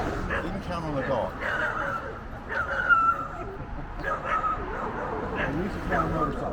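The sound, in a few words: dog barking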